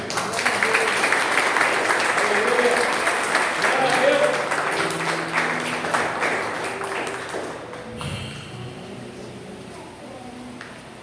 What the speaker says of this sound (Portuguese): As palmas logo ao Senhor, gente.